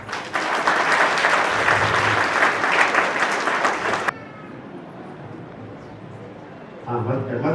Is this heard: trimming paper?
no